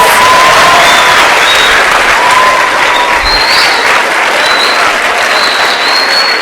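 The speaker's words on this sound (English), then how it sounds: "if we can just give one more big round of applause" A school audience at an autism awareness talk gives a long, loud round of applause, thick continuous clapping close by with a few faint whistles or cheers riding over it.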